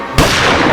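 A single sharp pistol gunshot fired in a courtroom, one loud sudden crack with a short ringing tail, heard alone without talk.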